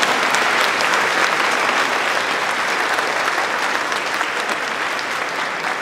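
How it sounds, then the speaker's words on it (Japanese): An audience at a music festival applauds in a dense, loud, continuous wash of clapping that holds steady throughout and fades slightly at the end, with no talk over it. "皆さん拍手をお願いいたします。"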